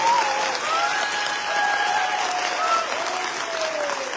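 An audience at a direct-selling products training event applauds, a sustained wash of many hands clapping that stays loud throughout, with a few whistles sliding over the top.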